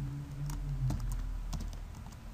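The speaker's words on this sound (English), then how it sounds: "I'm gonna open up a new notepad and type in Prosper." Keys clatter on a computer keyboard in a short run of scattered, close taps.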